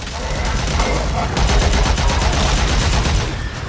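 A cannon in Warframe firing in rapid, pulsing bursts, loud and close, the repeated shots running almost without pause over a rumbling game background.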